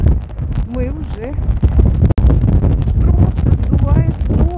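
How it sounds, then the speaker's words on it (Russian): Strong, gusty wind blows across a hilltop beside a frozen, nearly dry lake near a two-anchor bay, buffeting the microphone with loud rumbling bursts under a woman's speech. "Ветер сдувает с ног."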